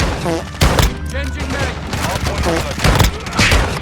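A Lockwood 300 double-barrel shotgun fires in a video game, sharp loud blasts a few at a time amid game effects, with a voice talking over them.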